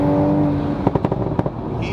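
Exhaust of a Nissan Silvia PS13 on a throttle blip: an engine hum followed by a quick burst of five or six sharp, close pops and bangs spaced over about half a second.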